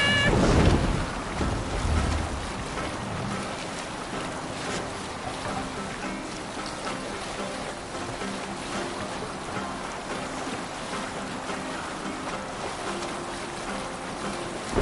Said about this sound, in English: Raise the mast! Run up the sail!